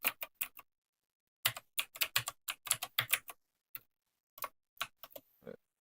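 Typing on a computer keyboard during Victoria 3 gameplay, close crisp keystrokes in short bursts: a quick run of taps, a pause of about a second, a dense flurry, then sparser scattered presses.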